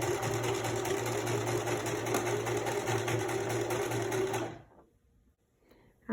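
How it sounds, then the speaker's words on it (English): A sewing machine runs steadily as it stitches the end of a homemade fabric face mask with a filter pocket, a loud continuous motor whir lasting about four and a half seconds before stopping abruptly into near silence. "So now I'm just going to sew the other end."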